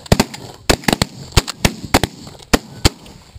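Gunshots fire in a quick irregular string, about a dozen sharp loud cracks over a few seconds, close and unaccompanied by talk.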